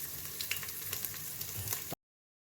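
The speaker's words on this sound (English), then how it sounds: "Fry it well." Green chilli pieces and onion frying in a pot, a soft, steady sizzle with light crackles for about two seconds before cutting to silence.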